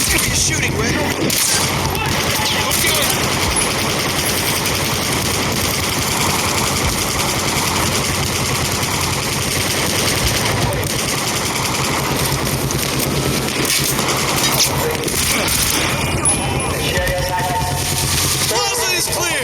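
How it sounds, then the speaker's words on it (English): Dense gunfire from the video game Battlefield 4 in the Shanghai mission, with loud sustained automatic bursts and booms filling the whole stretch, plus shouted voices mixed in. "You're shooting, Red."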